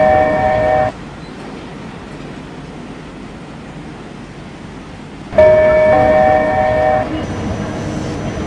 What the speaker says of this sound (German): An Gleis 2 fährt ein Intercity Express 902 von München Hauptbahnhof nach Nürnberg Hauptbahnhof.